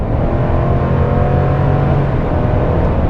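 A 2022 Chevy Silverado High Country pickup with its 6.2 liter engine accelerating hard, heard from inside as a loud, continuous deep engine roar with steady low rumble and no talking.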